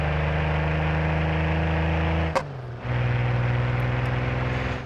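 Twin-turbo DeLorean engine idling in BeamNG.Drive, a steady, loud, close drone with a dense low rumble that dips briefly after a sharp click before settling back into the same even idle.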